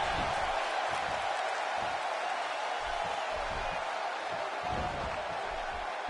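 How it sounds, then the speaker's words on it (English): Wrestling arena crowd in WWE 2K16 gives a constant, broad roar of cheering, a dense wash of noise that stays loud and even throughout without pause. "by the sound of this crowd, I think they're getting what they wanted"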